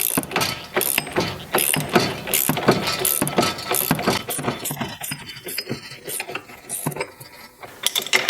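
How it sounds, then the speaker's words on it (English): A socket ratchet clicks in quick, repeated bursts while tightening a front suspension joint on a Porsche Boxster, close-up metallic ratcheting that slows and thins out toward the end. "you can put a socket and a ratchet in there to pull the joint"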